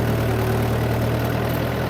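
A farm tractor engine running steadily, a loud, dense low rumble with constant drone and no pauses, close up.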